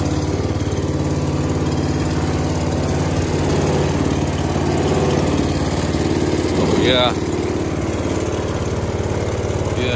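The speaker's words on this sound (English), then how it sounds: "It's got a really nice reliable engine on it." A Honda HSS928 snowblower engine idles steadily after a cold start on a -5°F day, a continuous close mechanical drone with a brief voice cutting in partway through.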